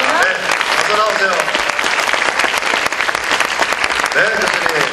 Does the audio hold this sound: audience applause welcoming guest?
yes